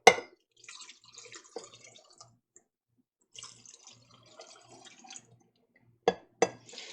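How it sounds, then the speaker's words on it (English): Ham stock being ladled into three canning jars, giving scattered splashes and drips in short bursts with quiet gaps, then two sharper clinks of glass near the end. "I'm going to divide that ham stock between my 3 jars"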